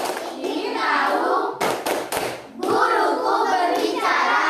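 A group of schoolchildren in an Indonesian classroom claps hands in short sharp bursts for the tepuk konsentrasi clapping game, a quick cluster of claps between stretches of loud chanted talk.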